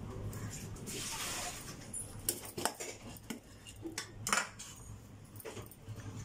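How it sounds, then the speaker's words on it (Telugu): Hot sajja pittu, a pearl millet dish, being mixed in a bowl: irregular spoon clinks and scrapes against the bowl, close and fairly quiet, with a few sharper knocks. "ఒక బౌల్ తీసుకొని వేడి మీదనే ఈ సద్దపిట్టుని ఇందులో వేసేసుకోవాలండి। ఇందులో వేసి బాగా కలపాలి"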